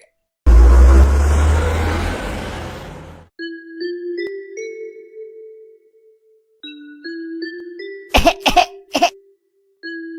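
Cartoon coughing: a loud burst of coughs at the start, then a quiet stretch of tonal music, then a few more short, sharp coughs near the end.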